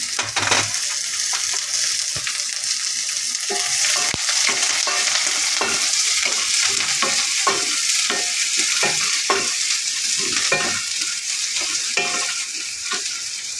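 Onion pieces and chana dal fry in hot oil, a loud continuous sizzle close by with repeated scraping strokes of a spatula stirring throughout, and nobody speaking.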